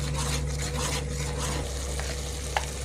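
Coriander and mint masala sautéing in oil in a pan, a steady close sizzle with a low hum beneath and a soft scrape of stirring, with one sharp clink near the end and no talking.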